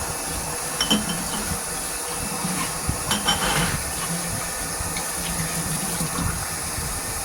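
Hot water runs into new glass jars at a kitchen sink for washing, a steady hissing flow with a few glassy clinks and taps scattered through.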